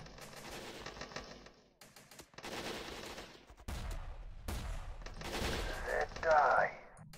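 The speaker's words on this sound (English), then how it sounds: "is it like some sort of heavy machine gun or something?" Heavy machine gun fire rattles in a war video game running the Oriental Conflict mod, bursts of shots muffled and mid-distance, mixed with battle noise while a voice talks over it.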